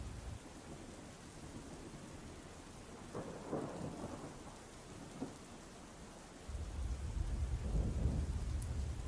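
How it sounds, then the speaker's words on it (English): Steady rain falls on a surface while rolls of thunder rumble low and heavy, swelling louder toward the end, with no voices. "I was awakened by the loud sound of thunder outside."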